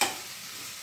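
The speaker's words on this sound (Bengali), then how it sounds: "পেঁয়াজটা হালকা ভাজাই হবে, শুধু কাঁচা ভাতটা কেটে যাবে সেই রকমই ভাজবো" Onion sizzles lightly in a pan, a brief soft frying hiss with a stir at the start, heard alone and close.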